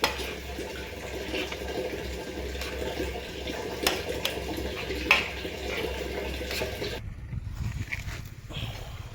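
Water poured into a pan of brinjal bharit cooking on a wood-fired chulha outdoors, a steady rushing wash for about seven seconds before fading to a quieter simmer.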